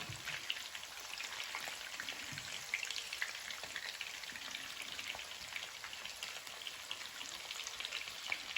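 Stuffed zucchini fries in a pan with a soft, even sizzle and fine crackling like light rain, steady and fairly quiet throughout, with no talking.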